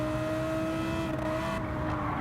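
Lamborghini Huracan GT3 race cars in the Gran Turismo 7 video game at Autopolis, a steady loud engine drone with a constant high whine and no gaps.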